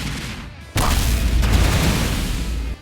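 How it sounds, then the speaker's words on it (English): An explosion uppercut move in an ABA video game, heard as a sudden booming burst that cuts in after a quieter moment and rumbles on as a dense, loud blast of game effects. "let's do the first, you know, normal move, explosion uppercut."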